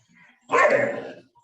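A single loud, close bark from a dog during a fight in a park, a short harsh burst after a faint lead-in.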